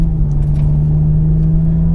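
A 2020 Toyota Supra engine shifting up in manual mode, heard as a loud, steady drone from inside the car, holding an even pitch throughout without pause.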